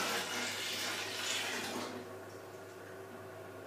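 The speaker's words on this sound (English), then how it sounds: "See, like this, a little bit of water come out of it" Water runs from a tap while buckwheat is rinsed in a small bowl, a steady rushing stream that is louder at first and then drops to a softer trickle.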